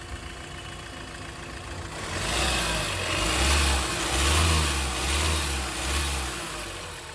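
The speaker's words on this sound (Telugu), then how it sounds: "ఒకసారి స్టార్ట్ చేసి మీకు ఇంజిన్ కండిషన్ కూడా చూపిస్తానండి ఒకసారి" Hyundai Creta car engine, a used car for sale, running with a low idle rumble that swells as the engine revs up and down repeatedly, close and fairly loud with no talk.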